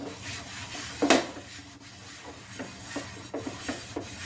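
A cloth rubs and scrapes across a hot dosa tawa in uneven strokes, with one louder scrape near the start, set against a faint background hiss.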